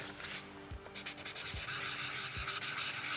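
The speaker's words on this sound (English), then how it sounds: "take a little bit of sandpaper and to just rough the back just a little bit" Sandpaper roughing the back of a plastic helmet mount, a continuous close rasping rub with slight back-and-forth surges and a few soft low thumps, no talking.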